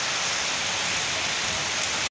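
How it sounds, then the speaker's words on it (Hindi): Steady heavy rain pours down continuously, a dense loud hiss of drops on surfaces with no pauses, close by and alone without any voices. "बारिश अभी भी हो रहा है।"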